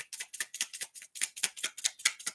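Playing cards being shuffled, a rapid series of crisp riffling bursts repeating in quick rhythm, close and fairly loud with no voices.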